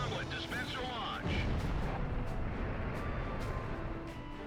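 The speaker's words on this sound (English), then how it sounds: "Bomblet, dispenser launch." A bomblet dispenser fires in the video game Ace Combat, producing a deep rumbling blast that swells after a short lead-in and sustains as a heavy roar with scattered sharp cracks, while a voice is heard briefly at the start.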